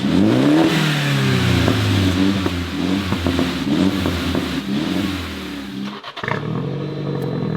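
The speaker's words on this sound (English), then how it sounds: "And here's what the exhaust sounds like in sport." A throaty MINI car exhaust in sport mode, an aftermarket upgrade, revs repeatedly, loud and near, with a harsh rasp and some crackle, dropping briefly before settling back to a rumbling idle.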